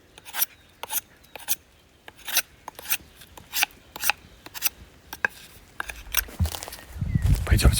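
Wood is worked by hand to shape a rustic wooden handle for an entrance door: a run of sharp rasping and scraping strokes in an uneven rhythm, close and fairly loud, ending in heavier rustling and knocking.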